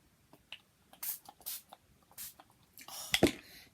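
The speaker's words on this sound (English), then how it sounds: "Lovely to just spray and spray and spray." Spray bottle misting ink onto clear stationery tags, a series of short hissing spritzes in irregular rhythm, close and crisp, with a louder burst of spraying near the end.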